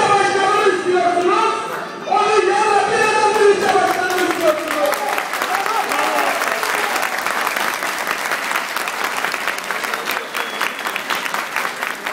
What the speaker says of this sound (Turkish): Oturmuş bir taraf alkışlıyor.